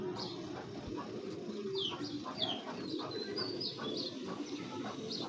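Racer pigeons (giribaz) coo softly amid scattered high chirps, set against a steady wash of rustling background noise at moderate distance.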